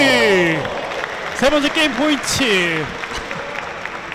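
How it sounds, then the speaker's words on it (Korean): Audience applause rises at a women's singles table tennis final between Korean national team players, a steady wash of clapping running beneath an excited commentator's voice. "자, 관중의 박수를 얻어냅니다"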